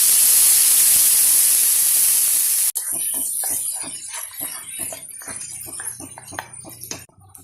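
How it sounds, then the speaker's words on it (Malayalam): Ground tomato puree drops into a hot pan of coconut oil with mustard seeds, curry leaves and chillies for a quick tomato chutney, giving a loud steady sizzling hiss that cuts off abruptly, then settles into softer crackling with sputtering pops. "ഇനി നമ്മൾ മിക്സിയിൽ അരച്ച് വെച്ചിരിക്കുന്ന ടൊമാറ്റോ ഇടാം."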